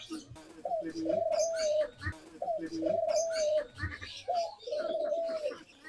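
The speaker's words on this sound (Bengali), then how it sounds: "এই ঘুঘু পাখির এই ডাকগুলো শুনতে এত ভালো লাগে" Three cooing calls from a dove, evenly spaced, each a rising then sustained hoot, heard close and clear over light background noise.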